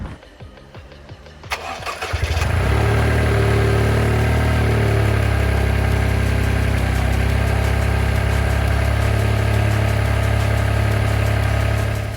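A Toyota GR Yaris engine cranks briefly and catches after a quiet start, then settles into a loud, steady warm-up idle with a constant low rumble and vibration that holds to the end.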